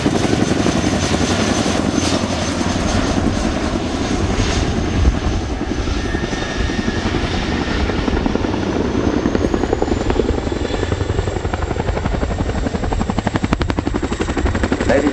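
A Royal Air Force Chinook HC.6A twin-rotor helicopter performs a flying display at the RIAT 2019 airshow. Its loud, continuous rotor thudding and engine roar last throughout, with a faint whine above.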